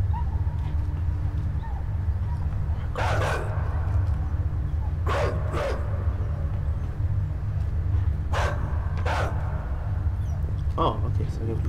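A dog barks several times in the indie puzzle-platformer Inside, with short bursts spaced out over a steady low game drone and background music.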